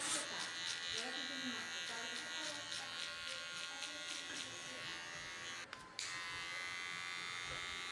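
Electric hair clippers buzz steadily with a number 0.5 guard and the lever open while cutting a mid skin fade on the sides, a close continuous whine broken by one brief pause near the end, with faint talk underneath.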